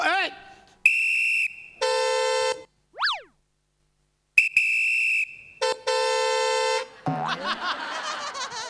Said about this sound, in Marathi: फुक्कटचा हॉर्न वाजवतो इथे.